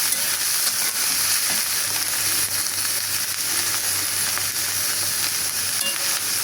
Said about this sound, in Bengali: এই যে করলা ভাজি করাই দিলাম